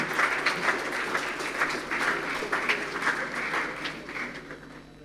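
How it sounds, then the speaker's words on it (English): Audience applause rings out at a St Mary's College graduation ceremony, a dense, steady wash of clapping from a crowd that holds for several seconds without fading. "Let's give a round of applause to Dr. Fiona Meyer."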